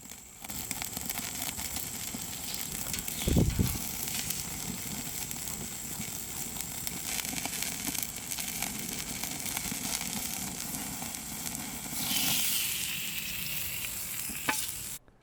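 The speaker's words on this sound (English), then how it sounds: "Sear all 4 sides of the steak to a beautiful golden brown with some char marks" Steak sears on very high heat, sizzling loudly and steadily throughout, with a thump as the meat is turned and a brief burst of stronger hissing near the end.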